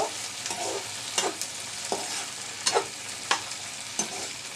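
A spoon scrapes and stirs egg paratha filling in a hot pan, giving repeated sharp clinks over a soft, continuous sizzle of frying, close by and fairly quiet.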